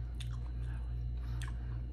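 Crunchy, cold yellow pickled radish is chewed close to the microphone, with two distinct crisp bites standing out over a steady low hum.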